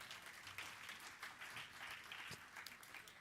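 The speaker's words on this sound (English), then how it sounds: "You clap for that." Distant, faint audience applause at a political party's national convention, a continuous soft patter of many hands clapping with no talk over it.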